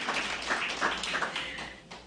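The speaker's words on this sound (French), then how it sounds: "mais on peut les applaudir quand même" A small audience at the AGA ABPQ 2018 project fair gives a soft, steady round of applause, a dense patter of many hands clapping at a distance with no talk over it.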